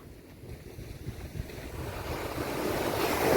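Ocean waves wash and roll in at Daman beach during the monsoon with a swelling surge that grows louder toward the end, mixed with gusty wind buffeting the microphone.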